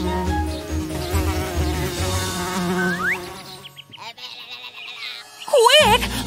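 An insect-like buzz drones over cartoon music, then drops away, followed by wobbling whistle-like tones and brief voice sounds.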